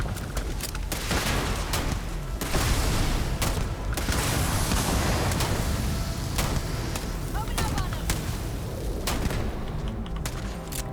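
Dense video game gunfire in Starfield, with rapid volleys of shots and thuds continuing throughout at steady loudness, mixed with game noise and voices.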